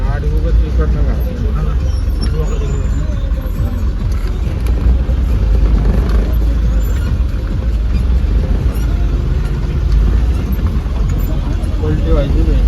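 Dense road traffic on the Chakan to Shirdi road, a steady loud rumble of car, bus and truck engines with tyre noise running throughout, with voices murmuring underneath.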